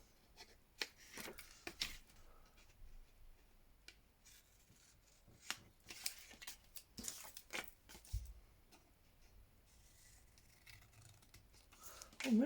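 Paper is trimmed with scissors for a craft journal, giving soft, close snips and crisp paper rustles in scattered bursts, with quiet handling noise between cuts.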